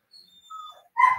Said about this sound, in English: And then the dog's going nuts there.